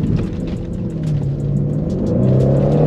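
A 730 hp Audi RS6-R engine rumbles and revs steadily, its deep drone rising slightly in pitch toward the end, with no talking.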